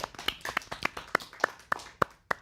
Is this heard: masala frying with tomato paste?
no